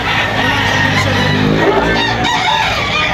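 A gamecock offered for sale crows loudly and close by, one long, drawn-out call filling the moment, with faint human sounds in the background.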